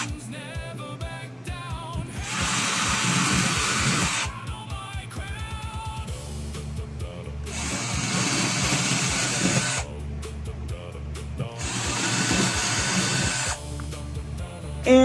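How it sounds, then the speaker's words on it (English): A power drill whirs in three long bursts, each several seconds, drilling anchor holes in a wall to mount a PS5, with short pauses and clattering handling noise between them. "now we're just going to drill our holes in here"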